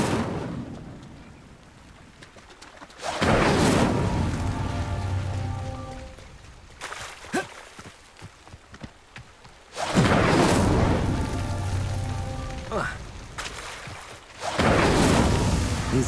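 Twice a roaring fire spell whooshes in a fantasy wizard video game, each a sustained loud blaze lasting several seconds. Lighter crackles and rumbles fill the gaps between them.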